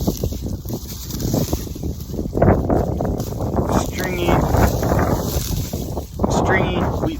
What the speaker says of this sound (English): it's really windy out here.